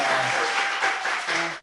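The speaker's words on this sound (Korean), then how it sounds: "자, 박수 시간이 있어요." A studio audience at a Korean political talk show bursts into brief, dense applause that cuts off abruptly after a moment and a half.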